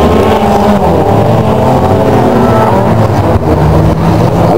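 Fifteen drift cars circle the Driftmaniac circuit during kamikaze qualifying, their engines roaring loudly and continuously with overlapping revs and layered exhaust drone throughout.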